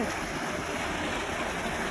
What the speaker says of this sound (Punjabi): ਅੱਜ ਮੋਟਰਾਂ ਚੱਲੀ ਜਾਂਦੀਆਂ ਨੇ ਲਾਹਾ ਲੈ ਰੱਖਿਆ ਅੰਦਰ ਤੇ ਕਣਕ ਨੂੰ ਪਾਣੀ ਲੱਗੀ ਜਾਂਦਾ